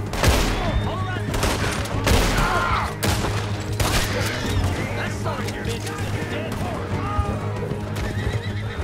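Western gunfight sounds from the video game Red Dead Redemption 2 fill the scene, with repeated gunshots mixed with horses whinnying and hooves clip-clopping, dense and loud, while characters shout over the action.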